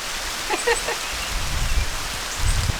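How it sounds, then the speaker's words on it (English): Heavy rain pours steadily over an alfalfa field where a calf is being halter trained, a dense hiss of drops with a few faint voices and low thumps underneath. "I think this is a pretty hefty rain."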